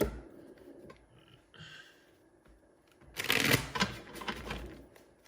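Tarot cards being shuffled in a few bursts: soft riffling, then a louder, crisp flurry of flicking cards near the microphone.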